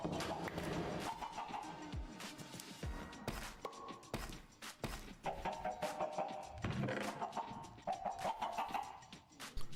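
Chickens cluck in a Minecraft world among lots of other game noise: footsteps, taps and short sound effects, with clucks popping up now and then in a busy, moderately loud mix.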